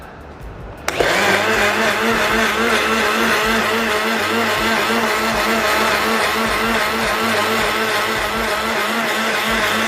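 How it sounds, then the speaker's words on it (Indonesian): A blender runs steadily, mixing glue with 400 ml of distilled water until fully dissolved; the motor starts abruptly and keeps a loud, continuous whirring drone alone with no talk. "Kemudian kita blender."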